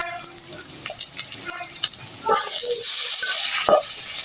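Spiced pangas fish frying in masala with ginger-garlic paste, turmeric and chili powder, as a spoon stirs through the pan: bubbling sizzle and wet scraping that swells into a louder, fuller frying hiss partway through.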